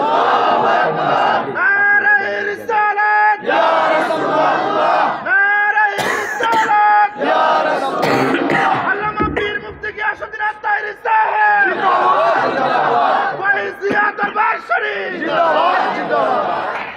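A large crowd at a religious gathering shouts a slogan in loud, rhythmic unison, with voices swelling in repeated chanted bursts and roaring cheers that carry on throughout.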